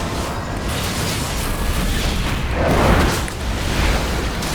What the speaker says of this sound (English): I ran right into the middle of that lava wave.